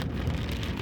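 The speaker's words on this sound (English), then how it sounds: "now it's raining pretty good here, of all things." Heavy rain drums steadily on a car while it drives, a dense, even wash of noise with a low rumble underneath and no talking.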